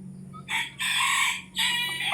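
Roosters in a small backyard chicken coop crow twice in quick succession on a quiet morning, loud and close, with a faint hum underneath.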